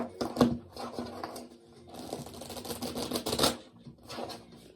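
Tarot cards shuffled by hand, close crisp riffling and slapping bursts in uneven runs, one short flurry then a longer rattling stretch that fades off.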